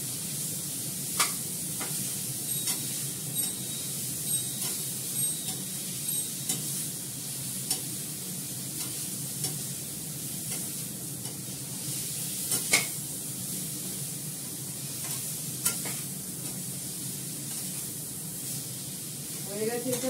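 Masala is sautéed in oil in a pan with a steady sizzle and frying hiss, while a spoon scrapes and stirs in irregular clicks. A person talks over the cooking.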